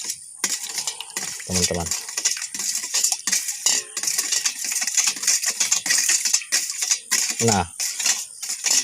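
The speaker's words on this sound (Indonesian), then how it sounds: "kita akan aduk terus sampai tercampur" Organic liquid fertilizer made from rice-washing water being stirred in a container, producing busy, close metallic clinks and rattling scrapes; a voice speaks briefly.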